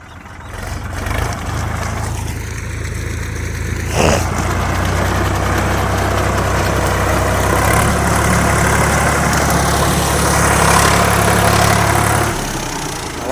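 Swaraj 744 FE and Sonalika RX47 4WD tractors labour in deep mud, steady low diesel engine drone running loud and continuous for the whole stretch, with a brief thump near the middle and the revs rising slightly toward the end.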